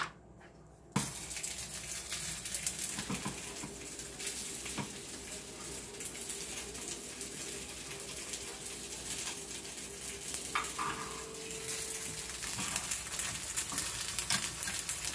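Tempering sizzling in an appe pan for stuffed rava appe, starting abruptly with a loud burst of sizzling that continues as a dense, steady crackle close by.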